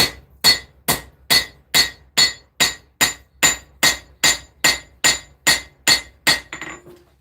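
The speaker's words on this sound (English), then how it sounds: "Using the cross peen ever so slightly." A blacksmith's hammer with a cross peen strikes a knife being forged, about fourteen evenly spaced ringing metallic blows, close and loud, followed by a brief fading ring.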